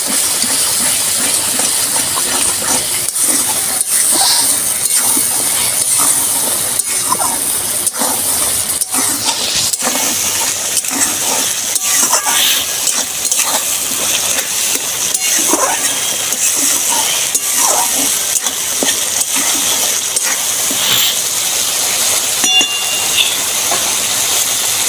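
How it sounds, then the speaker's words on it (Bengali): Spice paste of ground spices and salt frying in oil for a potol and potato dish, a loud dense continuous sizzle with scattered scraping stirs and crackles throughout, close to the pan and without talking. "এবার আমি মশলাটা ভালো করে কষে নেব।"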